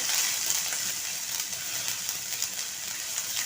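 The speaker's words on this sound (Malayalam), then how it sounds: "വെളുത്തുള്ളിയും ഇഞ്ചിയും ഈ എണ്ണയിൽ കിടന്നൊന്ന് ചൂടായി വരട്ടെ." Crushed garlic and ginger frying in hot oil in a pan, giving a steady, moderately quiet sizzle and hiss that continues unbroken throughout.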